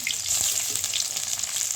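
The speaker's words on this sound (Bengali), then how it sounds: "দেখুন এই লাল লাল হয়ে ভাজা হয়ে গেছে, আর একটু লাল লাল করে ভেজে নেব" Rohu fish pieces frying in hot oil, a continuous close, bright crackling sizzle that holds steady throughout with no talking.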